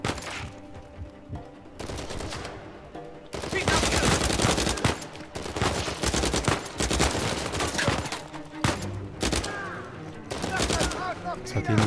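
Bursts of gunfire and automatic weapon fire crackle through a firefight in Uncharted 4 video game, loud and dense with brief lulls between volleys.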